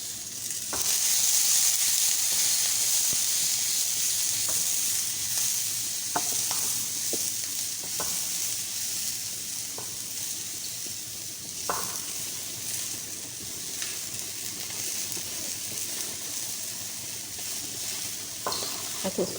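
Fresh peas (matar) with spices sizzle steadily in a pan, a continuous hiss broken by occasional scrapes and taps of stirring, close and fairly loud.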